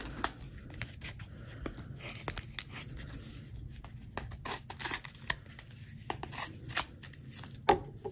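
Scissors snip through a trading card pack wrapper up close, giving irregular crisp cuts and crinkly plastic rustles at a quiet level, with no talking.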